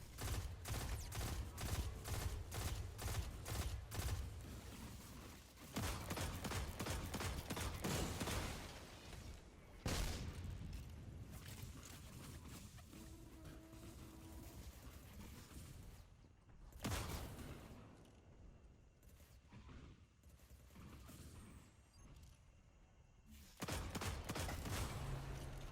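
Gunfire and arc shots from Vex enemies in the Destiny 2 video game during a boss fight, with rapid bursts of shots and blasts in clusters separated by quieter stretches, moderately loud with no speech.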